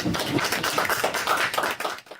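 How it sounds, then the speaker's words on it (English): Scholarship awardees and guests at a primary school ceremony break into dense, sustained applause, many hands clapping at once close by before it tapers off at the end. "You need to give yourself a round of applause"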